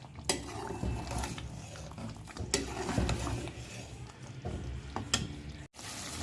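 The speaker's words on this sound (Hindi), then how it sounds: "अब हम इसकी फ्लेम को तेज़ कर देंगे और इसको भून लेंगे।" Chicken karhai frying over a high flame in a home kitchen: a steady sizzle and crackle runs throughout, with metal utensil scrapes and clinks against the pan recurring at close range.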